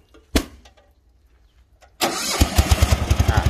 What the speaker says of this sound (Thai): ดับเครื่องเลย ลองสตาร์ทดูอีกที